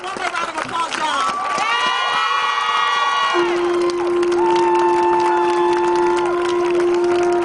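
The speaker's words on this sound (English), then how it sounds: "Give them one more round of applause, y'all." A rally crowd cheers and shouts loudly, with high children's voices and whoops rising over a dense, sustained roar of applause that carries through the whole stretch.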